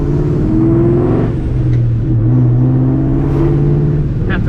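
A supercharged 2004 Mustang GT engine rumbles loudly and close as the car drives out of a garage, its revs rising and dipping in a steady throaty drone with supercharger whine on top.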